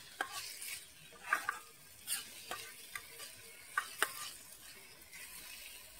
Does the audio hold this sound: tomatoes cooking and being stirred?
yes